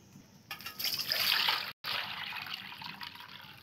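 Hot water, heated on a clay stove, poured in a steady trickling stream to mix pitha batter, with a brief break partway through before the flow resumes more softly.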